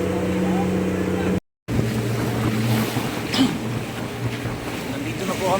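Several small fishing boats out at sea with steady low engine drone and wind noise throughout, a brief dropout early on, and people talking over it.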